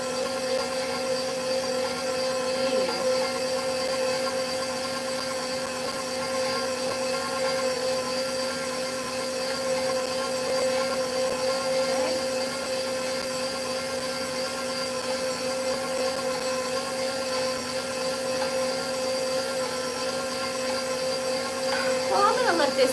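A KitchenAid Pro Line 5 stand mixer runs steadily in a kitchen, giving a continuous motor whine and hum that stays at an even level throughout with no pauses.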